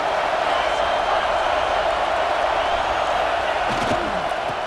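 In the video game College Football 26, a stadium crowd gives a dense, continuous roar and cheer during an Ohio State versus Michigan game. The sound is loud and steady, and a commentator talks over it.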